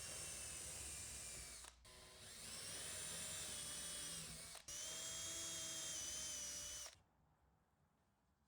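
Power drill boring shelf pin holes through a clamped jig into cabinet wood, three sustained whining runs separated by brief pauses, close and loud, then stopping into quiet.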